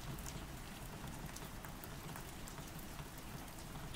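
Steady rain falls on surfaces in a continuous, even patter of countless drops, fairly soft and unbroken throughout.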